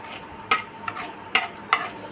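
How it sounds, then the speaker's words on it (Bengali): Cumin seeds and black pepper fry quietly in a pan under a soft, steady sizzle, punctuated by three sharp spatula scrapes or clicks against the pan. "জিরে গোলমরিচ সুন্দর করে ভাজা হয়ে যাবে, পোড়া ভাজা না"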